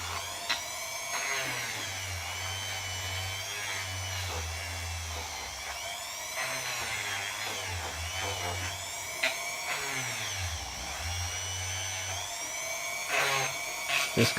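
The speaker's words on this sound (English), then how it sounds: "then we'll grind a bit more if necessary" An Ozito rotary tool grinds the plastic corners of a Crosstour action camera housing, giving a steady, close high-pitched whine that dips and rises in pitch as the bit bears into the material, with faint talk now and then.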